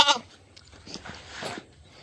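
Farm goats near a turkey pen bleat a few times, with one sharp nearby cry at the start followed by softer, scattered calls over quiet background rustling.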